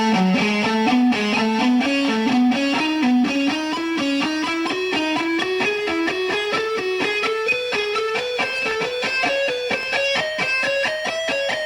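A distorted electric guitar plays a fast ascending lick in a steady stream of rapid picked notes that climb gradually in pitch, loud and unbroken throughout, with no talking.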